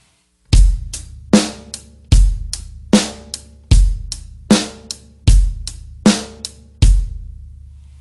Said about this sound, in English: What I've done is I've just put the bass drum on counts 1 and counts 3